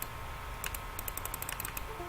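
Quiet, rapid computer mouse clicks while working in a graphics program's pucker tool, a few isolated clicks then a quick run of about ten evenly spaced taps, close and faint over low room hum.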